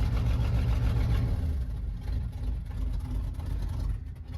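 A Ford 7.3 Powerstroke diesel engine in a high-mileage truck, after sitting unused for about a month, runs with a deep rumbling idle, loud and close, its low throb steady and slightly uneven throughout.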